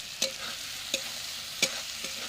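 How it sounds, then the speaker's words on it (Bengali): Masala with chopped tomato and green chilli frying in a clay pot for chicken, a quiet steady sizzle punctuated by three or four sharp spatula clinks against the pot. "দিয়ে ভালো করে কষবো মশলাটা"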